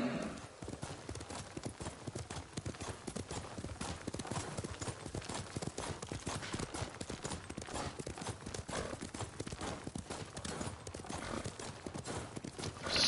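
Rapid clip-clop of horse hooves at a steady gallop while riding in the video game Ghost of Tsushima, continuous and fairly close for the whole stretch, with a faint whinny-like tone near the end.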